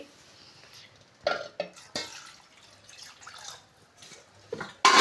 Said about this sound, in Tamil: ஸோ மட்டன் கறியை நல்லா அலசிக்கலாம்